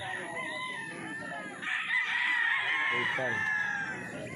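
A fighting rooster crows loudly and close by in Bustos, Bulacan, Philippines, a long drawn-out call rising and holding before trailing off, with faint farmyard noise in the background.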